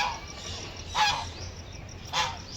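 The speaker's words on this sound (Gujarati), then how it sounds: "કેટલી બધી બતકો" Ducks on the water give two loud honking calls about a second apart, close by over a low ambient hum.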